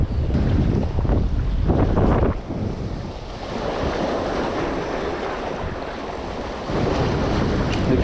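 Waves and a strong outgoing tidal current wash steadily through a jetty channel in Corpus Christi, Texas, with continuous surf and water rush heavily mixed with wind buffeting the microphone, no voices.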